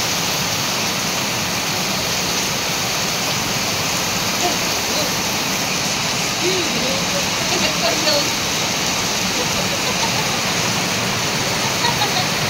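Heavy storm-like rain with gusting wind pours steadily and loudly around a house on a rainy afternoon, a dense unbroken roar with no pauses.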